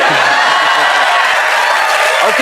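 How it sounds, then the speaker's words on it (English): A studio audience at a late-night comedy taping cheers and applauds loudly, a dense steady roar of crowd noise filling the whole moment with scattered shouts and voices mixed in. "I know you're excited, but don't cheer too loud"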